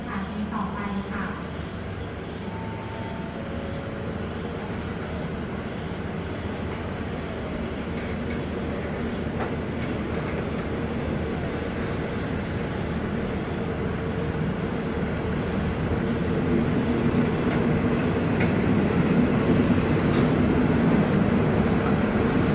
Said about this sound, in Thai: สำหรับขบวนรถด่วนขบวนที่83ออกจากสถานีราชบุรีไปแล้ว